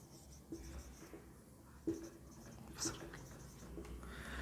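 Pen or marker writing on a board or paper during a geometry lesson on circles, a faint, steady scratching with a few soft taps, heard close and quiet against low background hum.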